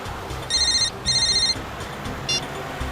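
A telephone rings with two loud, close electronic trills in quick succession, followed by a shorter chirp over a steady background hum.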